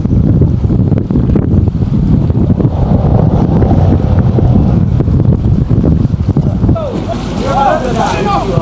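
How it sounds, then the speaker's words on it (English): Strong, cold wind buffets the microphone near a waterfront in Qidong, China, a constant roaring rumble that blankets everything, with faint voices underneath. "I'm leaving because it's very windy and cold."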